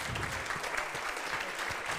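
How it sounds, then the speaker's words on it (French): Audience at a customer-relations awards gala applauding, a steady dense wash of clapping from many hands throughout, with a faint voice underneath. "Merci de les applaudir."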